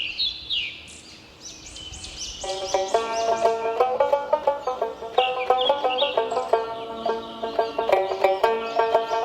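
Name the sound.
native chickens clucking in a cartoon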